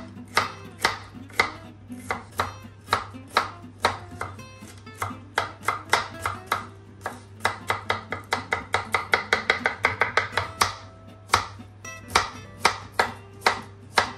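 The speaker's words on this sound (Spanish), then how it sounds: "cortamos dos dientes de ajo bien pequeñito" Garlic cloves chopped finely with a knife on a cutting board, a long run of quick, close knife strikes that speed into a rapid burst and then slow again, heard alone with a steady low hum underneath.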